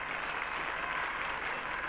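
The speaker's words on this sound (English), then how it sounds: "the Bulgarian supporters, this is their sport, cheering wildly" Bulgarian supporters at a 1984 rhythmic gymnastics European Championships event cheer wildly after a routine, a steady, distant wash of crowd noise and applause with no clear breaks.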